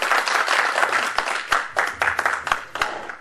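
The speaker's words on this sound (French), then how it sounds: "Sous vos applaudissements." Audience applause for a speaker at a festive political gathering of a women's party union in Paris, a dense burst of many hands clapping close by, with a few sharper individual claps standing out.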